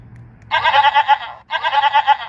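Two loud, wavering vehicle horn blasts that mimic a goat's bleat, each lasting about a second, separated by a short pause over faint low rumble.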